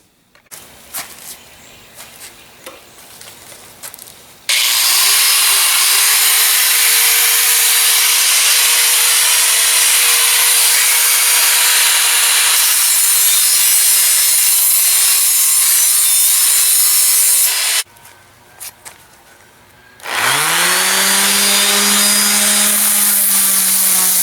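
A loud power tool grinds and cuts steel steadily in a workshop for long stretches, stopping briefly once before starting up again with a rising whine.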